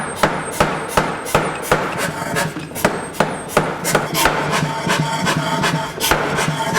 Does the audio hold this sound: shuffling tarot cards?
no